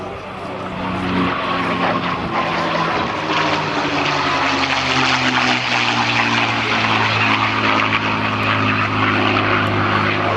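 A P-51 Mustang with a Packard Merlin engine flies at an airshow, its loud, steady propeller drone filling the air and shifting slightly in pitch as it passes.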